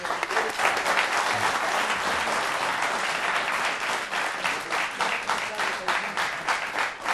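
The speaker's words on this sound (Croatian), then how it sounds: "Aplauz za sve naše goste." A studio audience on a television talk forum claps for the guests with sustained, loud applause that stays steady from start to finish.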